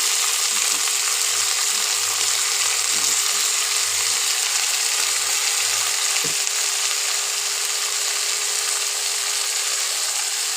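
Chicken with spices and turmeric sizzling in a pan for a Bengali-style shahi chicken, a steady bright frying hiss with a few soft stirring scrapes and one sharp tap.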